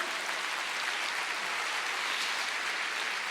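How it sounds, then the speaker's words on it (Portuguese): A church congregation applauds in a dense, steady wash of clapping that holds at an even level throughout, with no distinct voices above it. "Pode dar uma salva de palmas para o Senhor."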